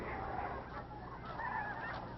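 Geese honk at a wildlife refuge, several overlapping nasal calls rising and falling close by over a dense murmur of other birds.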